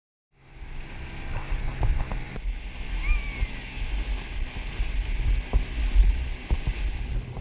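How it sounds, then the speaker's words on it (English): A dinghy approaches the beach at Lindeman Island in the Whitsundays over water, with a steady rumbling wash of motor and waves, wind buffeting and faint bird calls in the background. "We're just coming into Lindeman Island and about to pull the dinghy up on the beach."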